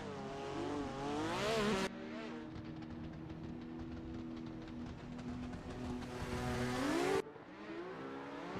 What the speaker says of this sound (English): Huge initiation from the chase driver to keep up with Alexander Jaegard's initiation down the hill